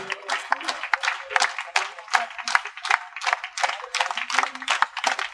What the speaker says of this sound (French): On peut les applaudir au fur et à mesure.